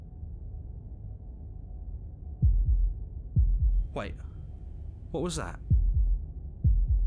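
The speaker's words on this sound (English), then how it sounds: "That was the sound of a heartbeat" A heartbeat sound effect plays as deep, muffled double thumps at a slow, steady pace over a low hum, with a voice speaking briefly between the beats.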